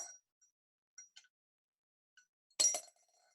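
Small objects drop one by one into a glass filled to the brim with water, making a few faint separate clinks and ticks followed by a louder, slightly longer glassy clatter near the end, with no talking.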